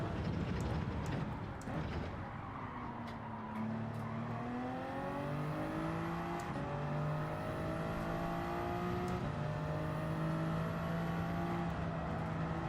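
Aston Martin race cars in Gran Turismo 7 roar steadily with engine tones rising and shifting across the whole stretch, several cars overlapping close by, with a brief tire squeal early on and no talking.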